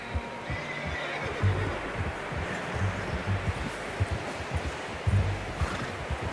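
A horse whinnies and snorts in Red Dead Redemption 2 over a steady low rumble and broadband wash of ambient noise, with repeated low thumps.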